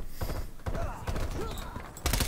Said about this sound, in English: firing the guns is so odd in this game